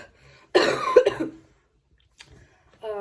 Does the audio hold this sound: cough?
yes